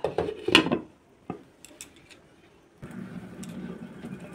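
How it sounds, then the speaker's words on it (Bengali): A metal lid set over a cooking pot of boal fish in oil and chilli, with a clattering clank near the start, a lighter knock after, then a low steady simmer. "একটা ঢাকনা দিয়ে ঢেকে রেখে দেবো।"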